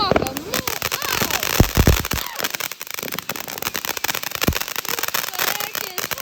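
Fourth of July fireworks burst and crackle repeatedly, with several loud booms and rapid popping volleys over a noisy crowd, while a person talks excitedly close by.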